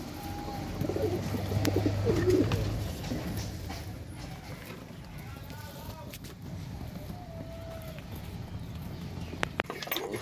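Giribaz and Pakistani pigeons coo softly from a loft. The low throaty calls are strongest early on, and faint voices and scattered clicks sit in the background.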